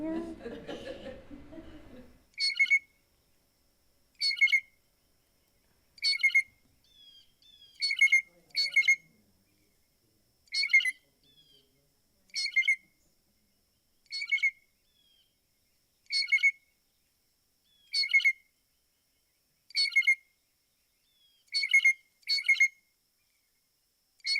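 Repeated hoarse, squeaky bird calls like a creaking clothesline pulley, about a dozen evenly spaced short bursts ringing out alone after a brief moment of speech at the start.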